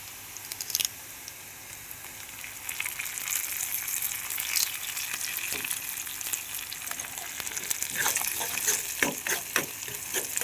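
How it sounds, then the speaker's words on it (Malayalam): Curry leaves crackle and sizzle as they fry in a hot pan on low heat, a steady bright hiss with scattered pops and occasional stirring scrapes throughout. "ഇനി അതിലേക്ക് കറിവേപ്പ് ചേർത്തെടുക്കാം"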